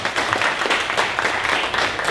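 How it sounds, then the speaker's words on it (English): Applause from a crowd at a Dallas startup pitch event, brief dense clapping, loud and steady for about two seconds. "One more round of applause for ideas."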